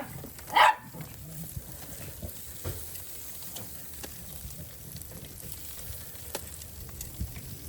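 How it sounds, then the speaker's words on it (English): A dog lets out one sharp, close bark right at the start, then falls quiet. Afterward there is only the soft sizzle and ambience of a Weber 26-inch charcoal kettle grill searing steak and trout outdoors. "It's because you bark all day, dog."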